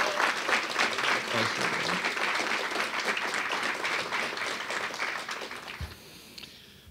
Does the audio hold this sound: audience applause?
yes